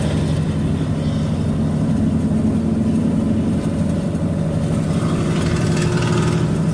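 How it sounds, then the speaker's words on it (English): A loud diesel pickup truck with oversized tailpipes rumbles steadily nearby, a deep continuous engine drone with a low throbbing idle and slight swells in revving, heard alone without talk. "Tailpipe get any freaking bigger on that diesel pickup truck?"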